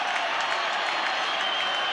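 Stadium crowd at a 1989 Cronulla Sharks versus Brisbane rugby league play-off roars and cheers after a tremendous tackle, a broad, steady wall of noise sustained for the full two seconds.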